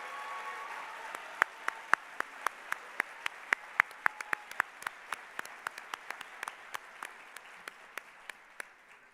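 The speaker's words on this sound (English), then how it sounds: "Let's give them a big round of applause." Scattered, sparse clapping from a small banquet audience honouring scholars at an annual foundation dinner in Spokane, individual claps spaced out and fairly faint, thinning toward the end.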